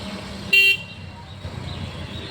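A single short motorcycle horn toot cuts in briefly over low road and engine rumble, fairly close and loud, during a riding lesson U-turn.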